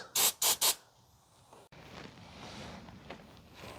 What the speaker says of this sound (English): I just sprayed this thing and it got everywhere, including on the camera.